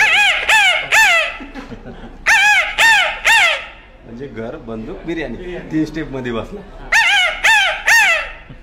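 A voice imitates the crowing call of a jungle fowl in the Tadoba forest, with several sharp, loud bursts in quick groups and a stretch of his ordinary talk in between.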